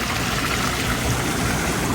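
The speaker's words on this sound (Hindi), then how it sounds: "देखो पानी निकलना शुरू हो गया हर जगह पर।" A spa tub being switched on, with water rushing and flowing out of its jets in a steady, fairly loud, even wash that continues without any voices.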